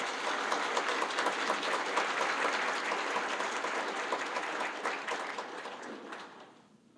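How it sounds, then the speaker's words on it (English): Audience applause following an invitation to light the qulliq at a morning presentation session, a dense, steady wash of many hands clapping that holds for several seconds and then fades away at the end. "So please give him an applause."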